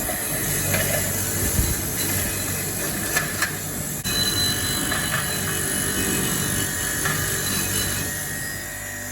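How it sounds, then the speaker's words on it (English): An angle grinder runs on a brake caliper being rebuilt for an HZ Holden, giving a steady, harsh, gritty whir that holds for about nine seconds with a few brief scraping bursts. "when rebuilding a brake caliper, the first thing you want to do is turn your angle grinder on"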